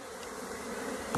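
Honeybees swarm around a beekeeper with a dense, continuous buzzing drone, close and steady, with no talking.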